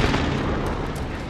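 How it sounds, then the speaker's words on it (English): Precision airstrike explosions in Call of Duty Warzone, a dense, continuous roar of blasts rumbling loudly through the whole moment with no clear gaps, up close and overwhelming. "Precision airstrike."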